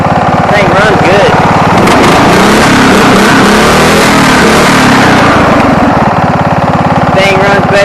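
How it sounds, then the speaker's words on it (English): A small used lawn mower engine revs under throttle, loud and close with a rough running note, while someone talks over it. "Give it a little gas and see. This thing runs good."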